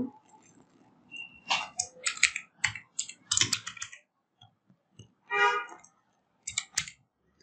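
Keys tapped on a computer keyboard while entering a short storefront label during Shopify web design work, heard as irregular bursts of sharp clicks with brief pauses, close and fairly faint.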